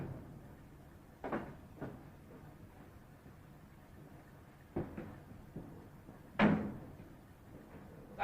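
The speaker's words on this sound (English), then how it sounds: "Shut that door." Door shut in a 1935 romantic comedy film, several sharp thuds and bangs spaced across the scene, the loudest near the end, in a quiet interior with low background hiss.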